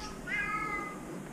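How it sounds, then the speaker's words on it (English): A cat meows once on a street in the Bulgarian mountain town of Sandanski, a clear, mid-distance cry with a falling tail over faint outdoor ambience, no talk. "Did you hear the cat?"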